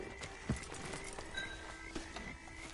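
Horse hooves clip-clop at a steady walking pace in the Western video game Red Dead, fairly close and moderately quiet, over a soft ambient music bed with no talking.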